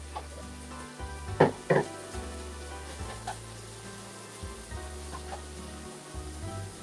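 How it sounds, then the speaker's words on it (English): Ground turkey meat hits a hot pan for shepherd's pie and sizzles at a low, steady level, with a couple of sharp clatters from a utensil and faint background noise, no talking. "Now I'm gonna put in my ground turkey meat."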